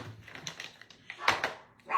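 Pet dogs bark and yip in short, sharp bursts a little way off in a quiet room, with a louder bark cluster near the end.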